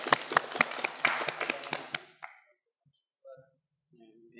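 A studio audience on a television show claps to welcome a candidate, with about two seconds of lively applause that cuts off into near silence broken by a few faint stray sounds.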